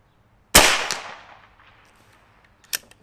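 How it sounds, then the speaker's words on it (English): A Dragon Claw PCP air rifle fires one sharp, loud crack outdoors with a short decaying ring, followed by a fainter snap a couple of seconds later. "And I'll shoot 3 shots."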